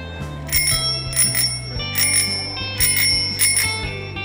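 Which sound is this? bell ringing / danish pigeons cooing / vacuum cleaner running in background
bell ringing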